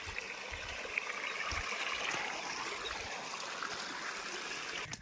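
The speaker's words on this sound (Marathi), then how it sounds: "पाण्याचा झुळझुळा" Steady, gentle trickling of a stream flowing continuously outdoors at Harishchandragad fort, with no voices and an even, soft wash of water throughout.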